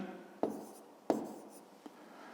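A pen or pencil on paper writes numbers in a math exercise with three distinct strokes, two sharp scratchy ones and a fainter third, close and quiet with no talk.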